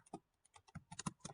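Quick keystrokes on a computer keyboard, a short burst of a dozen or so crisp clicks, close and quiet, with no other sound.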